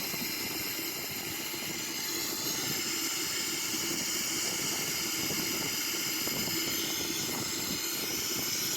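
A Boeing 777-300ER in a flight simulator game taxis toward the runway, its jet engines giving a constant, even whine and broadband hiss with no pauses or speech.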